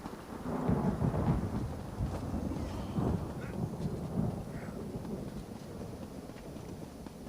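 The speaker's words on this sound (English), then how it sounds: "Thunder." Thunder rolls with a deep, sustained rumble over steady rain and wind in an Elder Scrolls game, swelling early and then lingering as a low, continuous storm backdrop.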